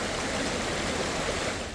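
Clear mountain river rushing over rocks, a steady, loud broadband wash of flowing water close by with no voices.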